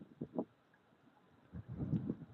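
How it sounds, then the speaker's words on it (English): Strong wind gusting outdoors on a walk, low buffeting rumbles against the microphone that come in uneven bursts, faint and close, with no voices. "It's very windy though, so we're gonna walk backwards."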